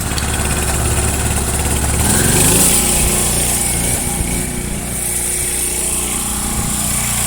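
A washing machine with a grinding fault runs loud and close, giving a steady mechanical rumble with buzzing vibration. The grind swells as the machine starts up partway through, then settles into a continuous churn.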